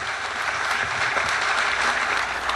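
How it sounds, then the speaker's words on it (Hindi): An audience at a mushaira poetry gathering in Islamabad breaks into dense, sustained applause, a steady wash of many hands clapping at once, close and full throughout. "सलमान गिलानी साहब के लिए भरपूर तालियां।"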